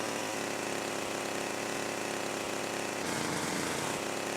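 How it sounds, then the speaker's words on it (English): Continuous buzzing chainsaw from the GTA Definitive Trilogy video game, a steady broadband engine whine with a shift in tone about three seconds in, loud and constant with no talking. "The chainsaw sound used to be fine in the original."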